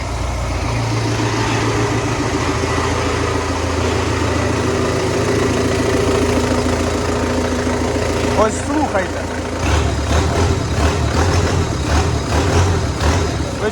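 A cold engine that is smoking idles roughly, then is revved, its loud steady drone rising with a sharper pulsing note near the end while people talk over it.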